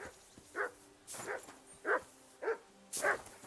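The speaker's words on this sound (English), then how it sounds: "That barking's driving me nuts. Can you get your dog to shut its beak?" Dog barking in the medieval open-world game Kingdom Come: Deliverance II, five sharp barks spaced about half a second apart, fairly close and clear over a low ambient hum.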